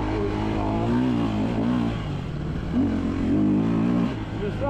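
Enduro motorcycle engine revving in a steady, loud, throaty drone, with a person talking over it throughout.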